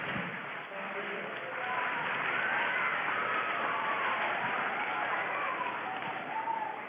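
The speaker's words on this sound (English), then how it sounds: "I don't know if the mic is picking up the cheers and the applause" School students in a hall cheering and applauding, a steady broad wash of clapping and voices lasting several seconds, heard a little distant and muffled as if through a remote microphone link.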